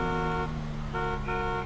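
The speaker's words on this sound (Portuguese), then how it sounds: "Só buzinar" A car horn in the GTA 5 video game honks twice in steady blasts, fairly loud and close, over a constant engine hum.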